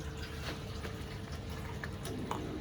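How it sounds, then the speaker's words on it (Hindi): Water is poured into roasted masala in a pan while cooking lauki kofte. A soft, continuous sizzling and bubbling hiss carries on steadily and fairly quietly. "अब इसके अंदर अम्मी करेगी शामिल पानी"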